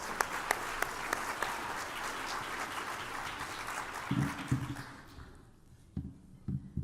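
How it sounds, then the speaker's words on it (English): Audience applause for a woman about to present at a network showcase, a steady broad wash of clapping that fades out, followed by a few scattered claps and soft sounds of the room settling. "let's give her a real nice round of applause"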